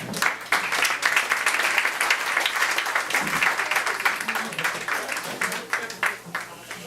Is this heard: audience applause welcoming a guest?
yes